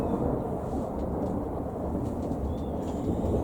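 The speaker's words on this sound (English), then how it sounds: "ooh, listen to that thunder." Thunder rumbles low and continuous through a steady wash of rain, outdoors near a greenhouse, with no voices.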